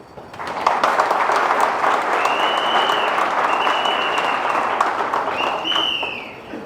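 Loud, sustained audience applause fills a meeting hall, steady dense clapping throughout with a few whistles cutting through near the end.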